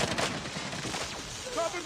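An MP5 submachine gun fires in Call of Duty Mobile as a dense, continuous rattle of rapid shots, loud and close, under faint game noise.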